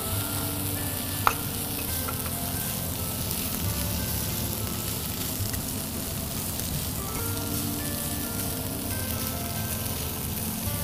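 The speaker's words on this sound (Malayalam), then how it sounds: "ഇതിലേക്ക് നമുക്ക് കുറച്ച് ബീഫ്, ബീഫ് വേവിച്ച ബീഫ് ഇട്ട് ഉള്ളി വഴറ്റിയതിന് ശേഷം നമ്മളതിലേക്ക് വേവിച്ച് വെച്ചിരിക്കുന്ന ബീഫ് കൂടി ചേർത്തു." Cooked beef tossed into a pan with sautéed onions, frying with a steady close sizzle under constant stirring and scraping, one sharp click near the start, no voices.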